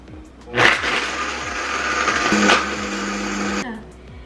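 A kitchen blender whirs through açaí bowl ingredients in one loud, close burst of about three seconds, starting with a knock and cutting off abruptly.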